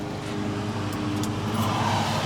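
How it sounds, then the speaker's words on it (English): Loud diesel trucks pass along a road, a steady engine drone and rumble, close and continuous throughout with no voices. "if you can hear over the loud diesel trucks"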